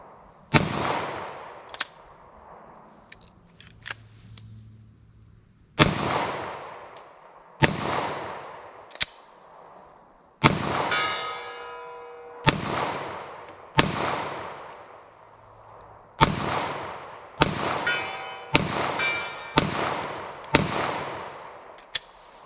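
Single gunshots from 10mm and .44 Magnum handguns at an outdoor ballistic test ring out as sharp, loud cracks spaced a few seconds apart, each trailing a short echoing decay.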